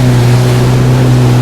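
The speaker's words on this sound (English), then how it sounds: "Look at these rolling waves we're getting." Yamaha WaveRunner cruising past a no-wake zone over rolling waves, its steady loud engine drone mixed with continuous water rush and hull slap, no voices.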